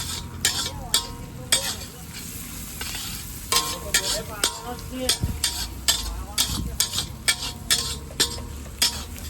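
Cabbage being slowly stirred and sautéed in a pan for a moong pulao, a spoon scraping in repeated sharp strokes over a steady close sizzle, with no talking.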